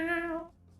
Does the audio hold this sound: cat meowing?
yes